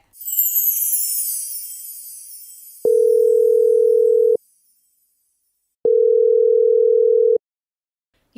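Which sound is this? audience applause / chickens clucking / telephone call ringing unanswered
telephone call ringing unanswered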